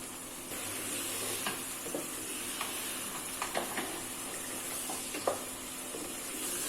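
Mutton korma, just out of the pressure cooker, frying in a pan: a soft, continuous sizzle with scattered light scrapes and clicks of stirring, fairly quiet and close, with no talking.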